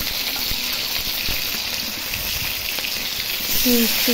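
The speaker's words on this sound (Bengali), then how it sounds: "তেল গরম হয়ে যাওয়ার পর আমি মাছটা দিয়ে দিলাম কড়াইতে" Turmeric- and salt-rubbed rohu fish sizzling in hot oil in a wok, a dense, steady hiss and crackle of frying that holds at an even level throughout, with a few faint clinks near the end.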